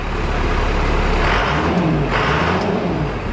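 Engine of a Travco motorhome running from inside the cabin, a loud steady low rumble with a slight rise in revs midway, close and continuous with no talk.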